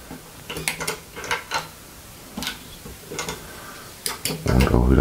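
A Music Nomad MN224 spanner wrench tightening guitar tuner nuts gives a series of small, light metallic clicks and ratcheting ticks at close range, spaced irregularly, with a brief louder clatter at the end.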